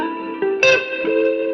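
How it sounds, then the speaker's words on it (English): An electric guitar played through a twangy spring reverb: a few clear, ringing notes bloom and trail off into a shimmering tail, with no voices. "Twang reverb."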